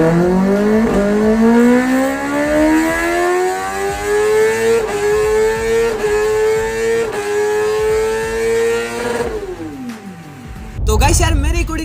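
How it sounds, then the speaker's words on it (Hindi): Kawasaki ZX-10R motorcycle engine revving hard, a loud close high-pitched wail that climbs steadily for about nine seconds, then cuts off, followed by a brief burst of noise. "पर अब साउंड आता है ZX-10R का।"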